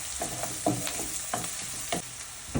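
Minced garlic frying in a pan, a steady sizzle with repeated clanks of stirring at a regular rhythm, close and clear with no talking.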